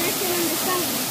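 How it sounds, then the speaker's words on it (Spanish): Steady broadband rush of the Don Juan waterfall, close and continuous, with a faint voice tone running through it. "esta es la cascada de Don Juan o San Juan"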